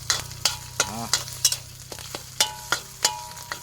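Red curry paste with kaffir lime leaves is stir-fried in a hot pan, with a steady sizzle broken by regular scraping strokes of a spatula, close and fairly loud, and no talking.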